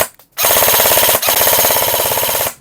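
A Lancer Tactical G3 airsoft gun, a Gen 3 polymer build with reinforced internals, fires a full-auto burst after a short click: a rapid, even mechanical chatter, loud and close, for about two seconds.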